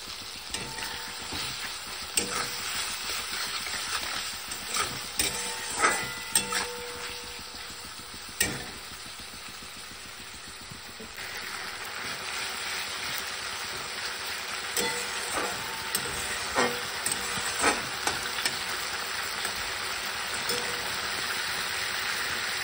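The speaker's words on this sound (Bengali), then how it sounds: "আমি এখানে টমেটো ভালো মতো ভেজে কষিয়ে নিয়েছি" Tomatoes with chopped green chili and salt fry steadily in a pan, a continuous close sizzle broken by occasional scrapes and knocks of stirring.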